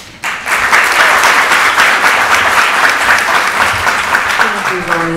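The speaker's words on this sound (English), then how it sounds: "I want you to hear the applause from this room welcoming you." A room of attendees at a public meeting breaks into loud, sustained applause that starts suddenly and holds steady at full strength before easing slightly at the end.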